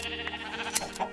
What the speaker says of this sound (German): Ich habe das Schaf jetzt gehauen, statt geschert.